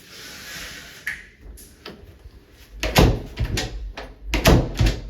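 During a home repair inspection a door is handled, giving several separate thumps and clunks from opening and closing, with quiet pauses between them.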